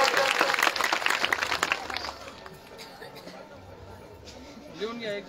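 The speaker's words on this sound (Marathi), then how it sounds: "सर्वांनी जोरदार टाळ्या वाजवायचे" A crowd gathered at a temple claps loudly for a cement donation, a dense burst of applause that fades after about two seconds, followed by quieter chatter.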